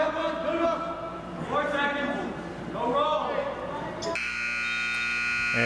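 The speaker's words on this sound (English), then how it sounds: "And there's the buzzer." A timing buzzer sounds at a high school varsity wrestling match, cutting in loud and steady near the end of the clip and holding on, after stretches of crowd noise and a commentator talking.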